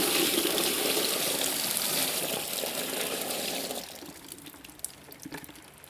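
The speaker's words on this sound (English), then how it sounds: "let's pop some soapy water down here, and we'll see if we'll get soapy water in the garage as well" Soapy water poured down a drain in a 1920s house renovation, a steady rushing gush that drains away and thins into scattered drips and trickles toward the end.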